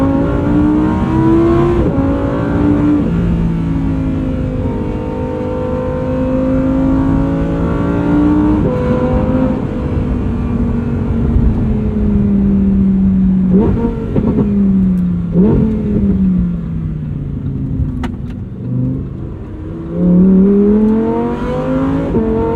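A Lamborghini Huracan's engine is revved hard again and again, pitch climbing and falling in long sweeps with a rasping, loud exhaust note close by, plus some brief sharp pops near the end, and no talking.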